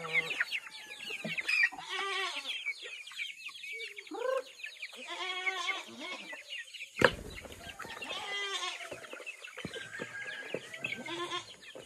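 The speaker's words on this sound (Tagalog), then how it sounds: "So ito siya, guys, ay pabo." Turkeys gobble and call repeatedly at close range, mixed with clucking poultry and other farm animal cries in an outdoor yard.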